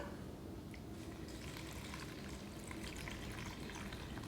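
Warm water with gold glitter poured over recycled paper at a library holiday craft session: a soft, continuous watery trickle and splash, fairly faint and steady, with no voices.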